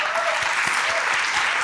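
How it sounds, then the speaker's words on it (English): Audience applause at a climate justice conference, a dense, steady wash of clapping from a full room that holds at even loudness throughout the short stretch. "can we give her all a big welcome of applause?"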